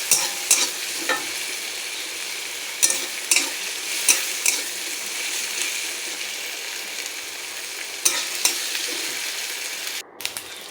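Onion fries in oil with dried red chili, whole cumin and garam masala, giving a steady close sizzle with periodic scraping clicks of a spatula stirring the pan.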